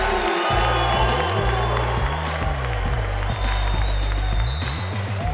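A packed college basketball arena in Charleston roars during a Marquette vs West Virginia game, loud sustained cheering and whooping filling the space while a ball bounces and an announcer talks over the din.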